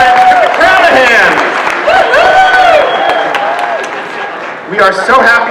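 A crowd at a Star Trek Voyager anniversary convention applauds and cheers, with loud shouts and whistles over clapping that dips briefly before swelling again.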